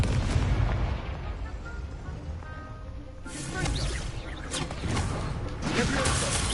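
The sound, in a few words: Incendio fire spell cast in Hogwarts video game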